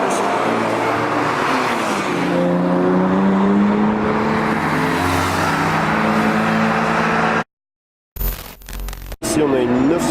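Porsche sports cars drive past at a Porsche gathering, a steady loud engine drone with rising and falling tones lasting several seconds, then a brief cut and a short burst of mixed noise.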